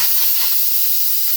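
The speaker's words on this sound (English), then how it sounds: "Let the steam out." Steam hisses loudly from a grill as it is opened while food cooks. The hiss is a steady, broad rush that fades slightly over a second or so, with no talking.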